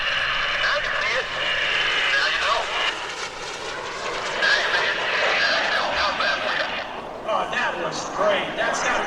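A small FLS Microjet at a 2015 Greenwood Lake airshow passes the crowd at about 130 mph with its landing gear out, its steady broadband jet roar filling the whole stretch, swelling and easing slightly.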